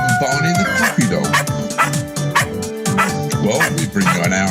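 A puppy gives a steady run of yapping barks and yips, loud and close, over music and busy voices at a breakfast radio show.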